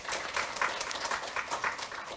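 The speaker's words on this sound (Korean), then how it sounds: "큰 박수로 맞이해 주시기 바랍니다." Quiet, distant applause from the audience at a government innovation forum, a steady patter of clapping without speech.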